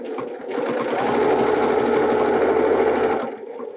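A domestic sewing machine runs during free motion quilting of a whirligig grid, a close, fast rhythmic whirr that ramps up, holds steady for about two seconds, then slows and stops.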